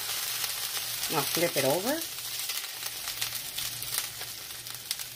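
Corn tortillas sizzle steadily on a hot griddle for birria quesa tacos, a continuous crackling fry running throughout while a person speaks briefly near the start.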